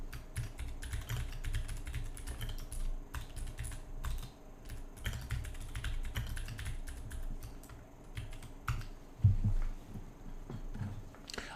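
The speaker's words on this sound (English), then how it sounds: "I just got to type this out." Continuous typing on a computer keyboard, a dense patter of close key clicks and taps with brief pauses and a few heavier thumps, alone without speech over a low hum.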